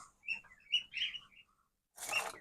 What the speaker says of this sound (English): we got birds going crazy